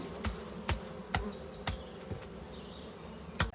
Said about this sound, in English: I need to quickly brush off the bees.